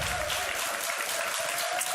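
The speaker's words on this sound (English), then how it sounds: "there's some sportsmanship from Judo as they continue to cheer for him as well" Crowd at a Clash of Clans esports tournament applauding and cheering, a dense, steady wash of clapping and voices filling the whole two seconds.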